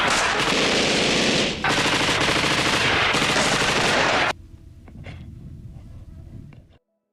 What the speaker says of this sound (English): the partisan soldiers open fire and end up killing all the 11 Nazis